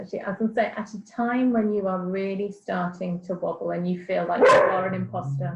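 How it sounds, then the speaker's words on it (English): A dog barks briefly in the background, about one sharp bark near the end, partly masked by someone speaking steadily in the foreground during an interview. "I'm sorry, that's my dog."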